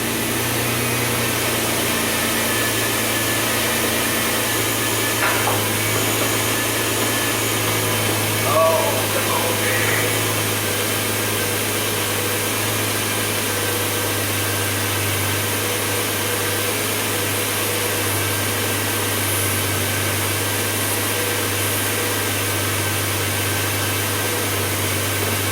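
A Ford Taurus engine running lean idles steadily with a low, even mechanical hum while it is sprayed near the EGR valve during a vacuum leak test. It holds almost constant throughout, with a faint roughness and brief small stumbles.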